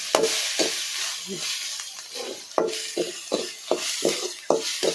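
Crushed ginger and garlic sauté in a pan with oil. A spoon stirs them in a series of sharp, repeated scrapes over a soft, continuous sizzle, all close and fairly loud.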